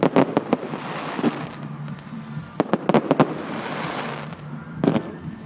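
Fireworks shots bursting in a rapid, irregular series of sharp bangs and cracks with crackling between them, loud against steady outdoor background noise.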